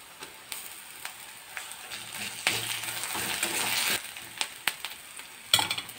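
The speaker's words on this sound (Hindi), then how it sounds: "अब इसमें अदरक लहसुन और मिर्च का पेस्ट" Ginger, garlic and chili paste frying in a pan, a steady close sizzle that swells when the paste hits the oil, punctuated by scattered clinks and scrapes of stirring.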